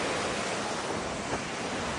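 A waterfall flows in a steady, even rushing roar of water on a mountain hike, with no break or change in level.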